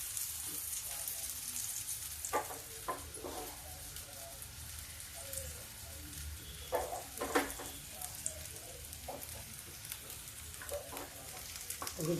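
Lauki-baingan bade frying in hot oil in a pan, a steady low sizzle with scattered crackles and pops running throughout, fairly quiet and close, no talking.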